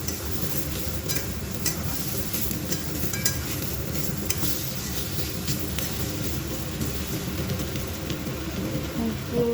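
Spices such as turmeric and cumin powder with green chillies being sautéed in a pan, a continuous dense sizzle with constant scraping and stirring, fairly close and steady throughout.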